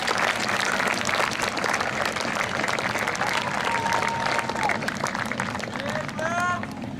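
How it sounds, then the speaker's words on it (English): Graduation audience at a high school ceremony applauds steadily throughout, a dense continuous wash of clapping from a large crowd with a murmur of voices underneath. "Seniors, please turn to your parents and guardians and applaud them for all of the support they provided you through the years."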